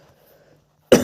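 A single sudden, loud cough from a man with a mild fever, bursting out abruptly at the very end after near silence.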